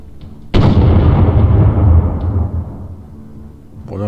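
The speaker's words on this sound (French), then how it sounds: "Regardez, ils ont installé des canons sur ces astéroïdes." Cannons mounted on asteroids firing in the space battle game Treasure Planet: Battle at Procyon, a sudden loud booming blast with a long rumbling decay over a couple of seconds, with a brief voice at the end.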